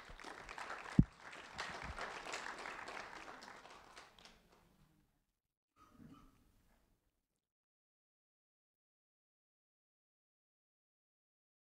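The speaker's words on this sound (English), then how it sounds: "A round of applause for Logan James Duquette." Applause for a sixth-grade student at a ceremony: a short burst of clapping that is loud at first and quickly fades to silence, with a few faint sounds afterward.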